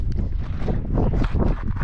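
Gusty wind at Timanfaya, Lanzarote, buffets the microphone with a loud, low rumbling roar that rises and falls.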